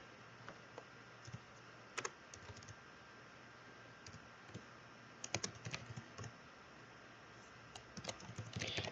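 Code is typed on a computer keyboard in quiet, irregular bursts of light key clicks with short pauses, the tapping growing busier toward the end, with no speech.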